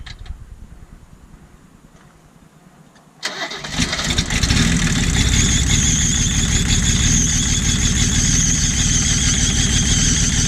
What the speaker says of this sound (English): I've never heard one of these diesels with no exhaust,